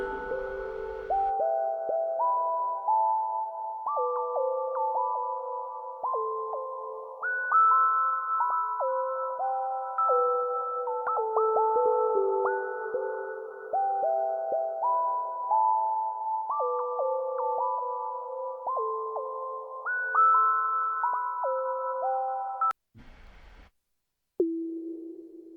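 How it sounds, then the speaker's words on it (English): Sustained synthesized tones step through a shifting, overlapping melodic pattern, each note trailing into a wash of reverb, played from a browser-based demo built with the Elementary Audio library; the tones run steadily and alone before cutting off near the end. "Nice reverb. Very nice."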